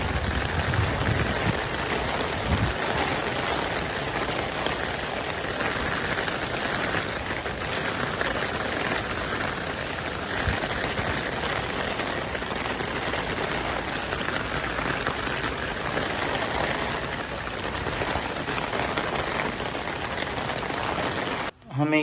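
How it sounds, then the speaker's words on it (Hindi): Steady, dense rain falls in Houston, a continuous loud hiss of drops on surfaces, close and unbroken throughout. "पता नहीं क्यों कुछ लोगों को बारिश अच्छी नहीं लगती, लेकिन हमें तो बारिश बहुत अच्छी लगती है।"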